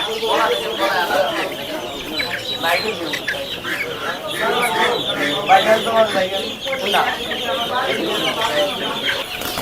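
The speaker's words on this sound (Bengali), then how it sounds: "এগুলো কি সাউমি মুরগি না কি কি জাতের মুরগি এগুলো দেশি মুরগি" Native chickens cluck and squawk at a busy bird and poultry market, a dense, loud, continuous chorus of fowl calls with people talking underneath.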